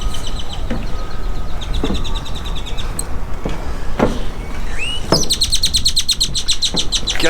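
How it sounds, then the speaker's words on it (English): Many birds chirp in a park by an old cattle bridge, with repeated high trills and tweets in bursts that grow denser and louder near the end, over a low steady background rumble. "lots of birds here. They're just everywhere."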